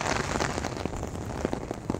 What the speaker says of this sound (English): I happen to choose a rainy day to come out to take pictures